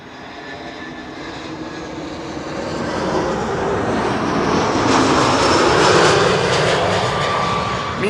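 An Air Arabia Morocco Airbus A330-200 arriving from Tangier at Amsterdam Schiphol roars closer, its jet engines swelling into a loud, whining pass at the peak before easing slightly, with no voices.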